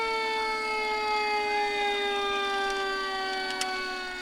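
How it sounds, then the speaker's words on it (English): Fire engine sirens wail steadily at a Fourth of July parade in Mount Prospect, loud and sustained, with layered tones sliding slowly over several seconds. "And I'm sure you can hear the sirens coming along."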